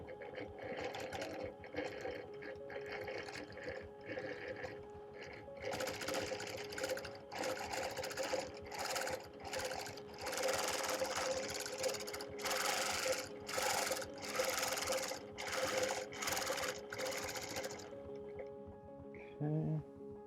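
A sewing machine stitches a quilt with yellow thread, its rapid needle chatter running in bursts of varying length, starting softer and growing louder and more continuous, then stopping.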